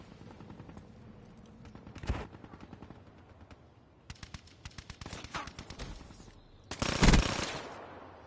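Gunfire from a PS4 war game cracks out in quick bursts and rapid machine-gun strings, moderately loud, with a heavier blast near the end and quiet background noise between volleys.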